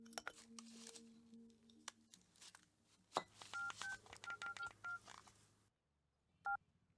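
A quick series of telephone keypad tones beeps out as a number is dialed, followed by a pause and one more tone, over light background clatter.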